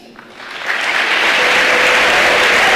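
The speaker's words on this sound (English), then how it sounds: "A quick round of applause for our newly elected Senator and Representative-elects" An Arkansas Boys State general-session audience applauds newly elected Senator and Representative-elects, quickly swelling from a few claps into loud, dense, sustained applause from a large hall crowd.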